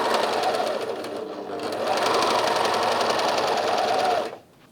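A Bernina 1100DA serger stitches and gathers fabric using differential feed, a fast, loud, even mechanical whir that runs steadily for about four seconds before stopping abruptly.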